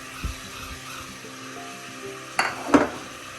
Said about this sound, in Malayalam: ഉള്ളിയൊക്കെ ചെറുതായി ഒന്ന് വഴലുമ്പോൾ നമുക്ക് ചതച്ച് വെച്ചിരിക്കുന്ന ഇഞ്ചിയും വെളുത്തുള്ളിയും ചേർക്കാം